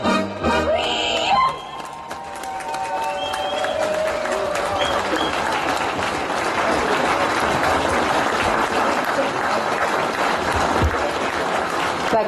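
Audience at an outdoor folk music festival applauding a folk band, steady sustained clapping from a large crowd throughout, following a brief tail of music at the start.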